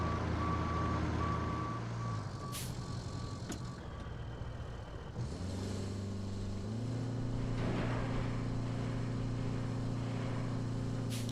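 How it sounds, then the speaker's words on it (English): Road trucks stuck in sand in the video game RoadCraft: heavy diesel engines drone and shift pitch as they strain, while an evenly spaced reversing beep sounds through the first few seconds. "These road trucks here are completely stuck in this sand."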